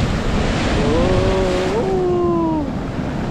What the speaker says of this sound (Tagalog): Maganda oh, lakas ng alon.